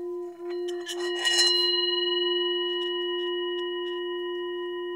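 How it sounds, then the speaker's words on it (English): A meditation-style bell or singing bowl rung once to close a session at a conference talk, a sustained ringing tone with clear overtones that swells briefly and then decays slowly, alone without talk. "I'd like to end today with the bell again and say goodbye"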